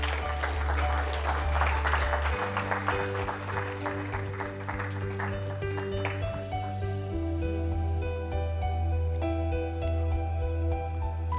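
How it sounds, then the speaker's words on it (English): Audience applause at a talk on agile leadership, filling the room steadily with clapping over a sustained musical tone and low hum, fading somewhat in the later seconds. "Give them a round of applause, please."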